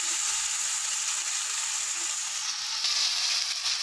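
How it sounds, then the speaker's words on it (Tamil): Pieces of chicken fry in hot oil with a steady, bright sizzle and crackle, a close and even hiss that runs without pause and no talk over it. "நல்லா ஒரு 5 நிமிஷமும் எண்ணெயிலே நல்லா பிறக்கிக்கோங்க."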